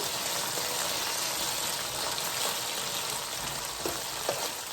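Onion rings sautéing in a pan, giving a steady, even crackling sizzle with a few soft clicks near the end, moderately close with no talking.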